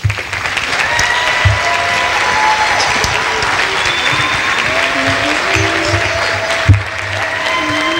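Steady applause from an audience at a school holiday program honoring the bell chimes, continuous clapping with a few stray tones and a knock, no talk.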